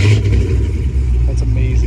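An 800-horsepower Hellcat Redeye with a check engine light throbs loudly up close, a deep, steady engine roar with slight surges throughout, with a voice faintly mixed in.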